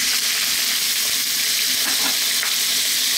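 Onion frying in a pan for a broccoli curry, giving a steady, loud, bright sizzle that holds evenly throughout with no talk over it.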